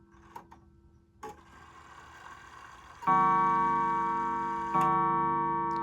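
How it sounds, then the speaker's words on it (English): Quiet ticking of a mechanical clock, then two clear, ringing chime strikes, each left to hum and fade, the second following about a second and a half after the first. "Let's see how many times it strikes the hour."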